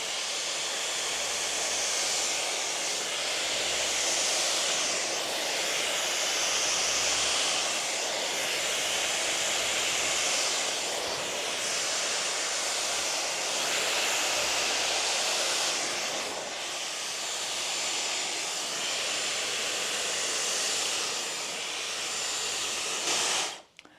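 A Dyson Airwrap hair styler with its brush attachment straightening hair, blowing a loud, steady rush of air that roars close by for the whole stretch and cuts off abruptly at the end.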